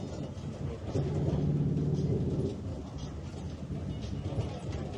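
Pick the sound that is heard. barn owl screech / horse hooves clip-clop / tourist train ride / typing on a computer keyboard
tourist train ride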